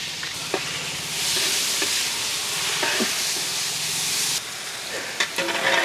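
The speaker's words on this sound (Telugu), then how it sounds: "నూనె వేడైన వెంటనే దీంట్లోనే మనం ఉల్లిపాయ ముక్కలు యాడ్ చేద్దాం." Onion pieces fry in hot oil for chicken fry biryani, a loud continuous sizzle with scattered ticks and crackles, easing slightly near the end.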